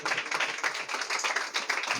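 A church congregation claps in steady, rapid applause, bursts of hand claps filling the space at an even level without voices.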